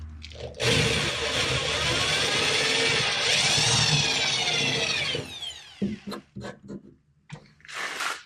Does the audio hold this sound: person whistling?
no